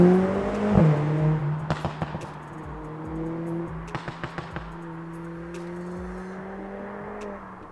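A car engine with paddle shifters accelerates steadily, its drone rising in pitch, dropping briefly at a gear shift, then climbing again with sharp ticks and clicks over it.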